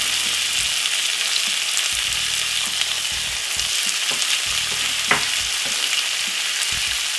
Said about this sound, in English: Then next we're gonna put in some garlic and all the seasoning which we just cut up.